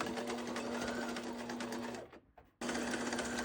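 Sewing machine back stitching the corner of a fabric pouch with a ribbon, a steady close whirring hum that stops briefly for a moment and then resumes.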